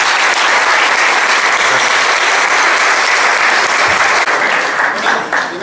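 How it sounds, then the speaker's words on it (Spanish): An audience applauds loudly at a university talk, continuous dense clapping from a large crowd with faint voices mixed in, tapering slightly at the end. "Un aplauso por su tiempo."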